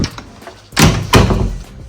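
A door is pulled shut and locked as someone leaves a room before heading to the airport: a scraping swing, then two solid thuds of closing and latching, close and fairly loud, with no talk.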